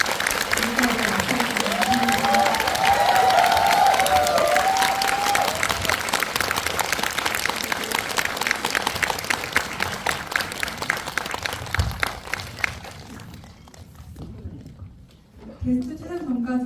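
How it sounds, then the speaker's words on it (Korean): A film festival audience in Busan applauds loudly and steadily after a guest talk for a film screening, with some cheering, the dense clapping thinning out near the end as a voice begins to speak. "큰 박수로 마무리하겠습니다."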